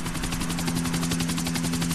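Helicopter in the video game GTA 4, a steady rapid rotor chop with a droning engine hum, loud and continuous throughout with no voices.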